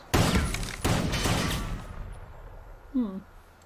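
Gunfire from an episode of Supernatural: two loud, close shots with long ringing tails crack in quick succession, followed by a brief voiced exclamation.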